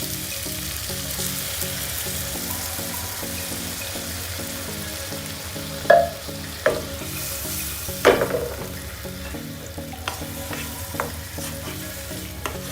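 Sri Lankan pineapple curry simmering in a pan with coconut milk and sugar stirred in: a steady low bubbling sizzle, with a few sharp spoon knocks against the pot near the middle and no voices.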